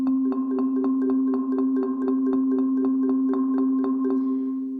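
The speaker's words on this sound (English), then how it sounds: "a one-hand roll between two mallets at a time." Six-mallet technique on mallet percussion, played as a one-hand roll with two mallets at a time: an even, rapid train of ringing strikes over a sustained tone, close and moderately loud, fading at the end.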